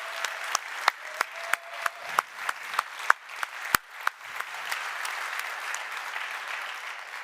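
Conference audience applauding the NEOS team on a center stage, a run of sharp distinct claps near the mic over a steady crowd clapping wash that carries on alone.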